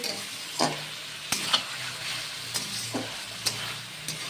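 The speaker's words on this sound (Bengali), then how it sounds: "এটাকে এখন ভালো করে আর একটু ভাজতে হবে" Onion-garlic masala frying in a pan for a fish curry with cauliflower and potato: a soft, steady sizzle broken by regular sharp scrapes and taps of a spatula, close and alone.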